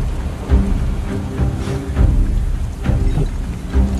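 Heavy rain in a Final Fantasy VII Ever Crisis cutscene, a dense, loud, steady hiss with low rumbling thumps recurring every second or so beneath a murky drone.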